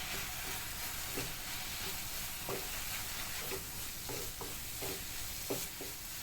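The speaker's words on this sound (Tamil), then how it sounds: "இப்போ இந்த மசாலாவோட எல்லாம் ஒன்றா சேர்கிற மாதிரி நல்லா சேர்த்து எல்லாத்தையும் ஒன்றா வதக்கிக்கலாம்" Baby potato gravy masala sautéing in a pan, with a steady broadband sizzle and scattered spoon-stirring scrapes and knocks throughout, close and alone with no talk.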